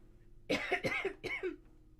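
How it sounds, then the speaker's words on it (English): A person coughs three times in quick succession, close and fairly quiet, with nothing else around it. "Sorry about my coughing."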